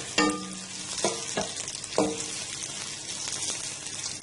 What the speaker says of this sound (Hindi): अब इसमें हम प्याज डाल देते हैं, और इसको लाइट गोल्डन ब्राउन होने तक हम इस तरह फ्राई करेंगे